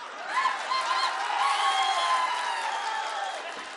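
A large crowd at an AIADMK political rally cheers loudly and steadily, with whoops and shouts rising over a sustained roar of voices.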